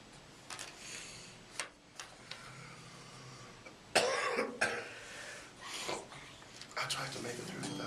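Several coughs and throat sounds from a person, scattered across the stretch with one louder burst midway, mixed with soft speech and faint ticking in a quiet room.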